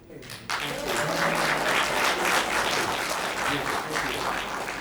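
Applause bursts out abruptly at a Palm Tran graduation ceremony and holds as sustained, loud clapping from a crowd, with voices faintly mixed in.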